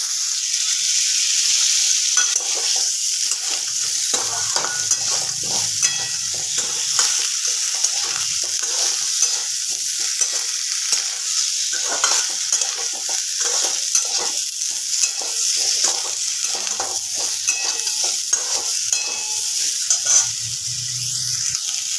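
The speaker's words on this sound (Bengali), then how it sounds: "এবার এগুলোকে একটু ভাজা ভাজা করে নেব" Pieces of gurjali fish fry in hot mustard oil with a little turmeric, giving a loud, dense, continuous sizzle broken by a steady run of spatula scrapes and stirring strokes.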